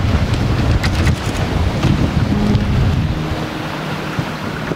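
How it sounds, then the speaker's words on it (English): Steady wind buffeting and rushing water around the sailing boat Gold Dust as she runs at about 7 knots on a beam breeze, loud and continuous with no voices. "there's a good beam breeze"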